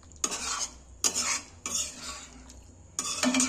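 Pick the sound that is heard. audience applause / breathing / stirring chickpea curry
stirring chickpea curry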